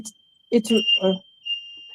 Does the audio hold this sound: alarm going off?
yes